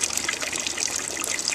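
Water from a garden pond pump spitter splashes steadily into an outdoor fish pond, a continuous close trickling and gushing with no voices.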